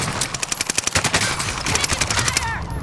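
Rapid automatic gunfire in Call of Duty: Modern Warfare, a loud, dense stream of close shots lasting a few seconds, with a voice heard over it.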